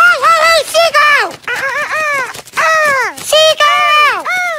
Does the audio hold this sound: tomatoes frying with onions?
no